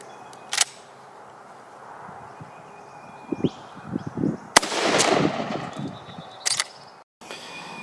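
Shotgun blasts from an Adler fitted with a modified choke and loaded with 7.5 shot, aimed at a 60-yard target outdoors. Three sharp, loud reports come at spaced intervals, each followed by a brief ringing tail over quiet ambient background.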